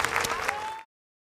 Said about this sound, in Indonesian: kita beri tepuk tangan yang paling meriah